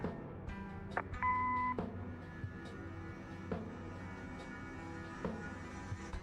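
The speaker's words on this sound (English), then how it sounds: "Leave a message after the beep." A short electronic beep sounds once as a quiet answering machine tone in the video game Kathy Rain, set among faint clicks and soft background tones.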